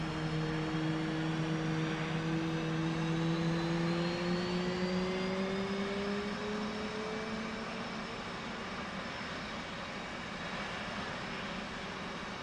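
An aircraft engine in a flight simulator game runs loud and continuous, with a droning hum and sustained whining tones that slowly shift pitch as the RPM changes.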